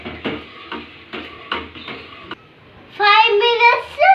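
A spoon stirs ragi porridge in a pot after milk is poured in, making a steady series of light scraping taps about twice a second, followed by someone speaking close by.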